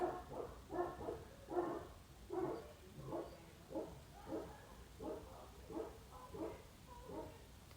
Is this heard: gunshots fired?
no